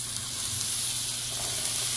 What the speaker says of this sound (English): We're going to now cook some chickpeas.